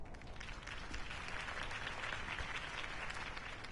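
Steady applause from a crowd after a Harvey Dent campaign speech in a Batman Telltale game, a dense patter of many hands clapping that holds evenly throughout, with no talk over it.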